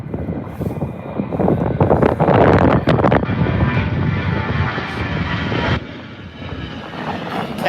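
A KLM Boeing 737 at Birmingham airport roars loudly with jet engine noise that swells to a peak and then eases into a sustained, slightly quieter rumble, heard alone.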